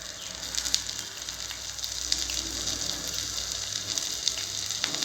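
Finely chopped ginger fries in melted butter with cumin seeds for broccoli soup, a quiet, steady sizzle with small scattered pops and crackles, no talking.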